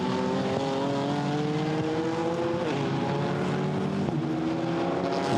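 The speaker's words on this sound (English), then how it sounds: "The Mercedes able to stick with it. The little Alpine tucking in behind, Stéphane Lemeray." GT4 race cars, including a Mercedes and an Alpine, running close together at Misano circuit, their engines a loud continuous whine with pitch shifts at gear changes.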